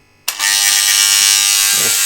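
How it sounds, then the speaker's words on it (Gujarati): A small electric water pump motor switches on abruptly and runs with a steady, high whirring hum, with a faint knock near the end. "આપણે નાની મોટર ચાલુ કરીને નાવાનું પીવાનું પાણી ભરી દઈએ."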